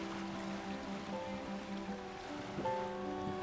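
Ocean waves wash in a steady low rush at a beach in Cádiz, with faint tonal hums running underneath throughout.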